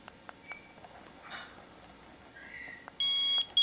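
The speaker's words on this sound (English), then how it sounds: "You have your beep button." A few faint ticks and clicks, then a short, sharp electronic beep from a dog training collar remote, loud and close.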